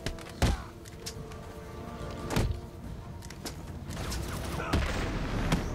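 Enemy gunfire in Batman: Arkham City: several sharp shots ring out at irregular intervals over a steady low game ambience, fairly close but moderate in level, with no talk.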